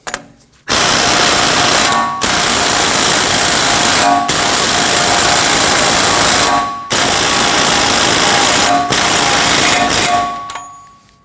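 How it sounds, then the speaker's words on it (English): Power tool snugging the axle nut on a front CV axle of a 2016-2022 Honda Pilot, loud whirring bursts of about two seconds each, repeated four times with brief gaps, no talk. "We can start on our axle nut. We'll snug that down."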